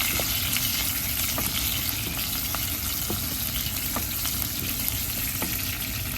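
Dal and palak fry together in an electric multipurpose vessel, giving a steady, loud sizzle with occasional soft stirring scrapes and no voices.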